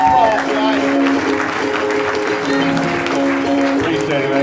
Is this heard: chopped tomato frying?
no